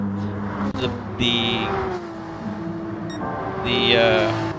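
A race car engine in a Pro-Am championship final revs and drops as the driver shifts up early, the pitch climbing and falling in short steps under a commentator's voice.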